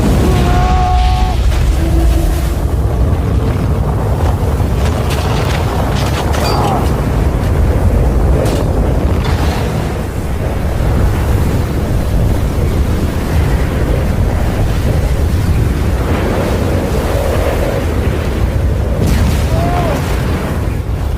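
Roaring, rumbling wind and sand-like surf noise from the sandworm riding scene in the film Dune Part Two, a dense, loud, continuous wash with deep booms, low rumble and occasional faint tonal cries throughout.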